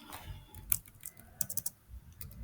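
Light keystrokes on a computer keyboard, a quick irregular run of soft clicks, fairly faint and close, with no voice.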